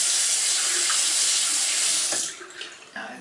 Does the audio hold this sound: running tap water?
yes